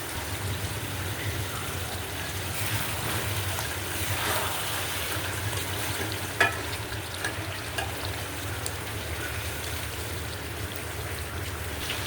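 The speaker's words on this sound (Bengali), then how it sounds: "আমার মাছটা কষানো হয়ে গেছে" Fresh shing fish fries in a pan, a soft steady sizzle and crackle blended with the patter of rain falling outside, with a few sharper spits and clatters standing out near the middle.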